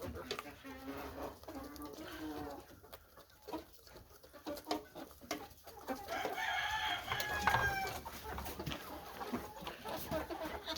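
Chickens in a flock of about 76 cluck and squawk while being fed, a busy close chorus with a rooster crow and scattered calls, mixed with some talk and handling noise.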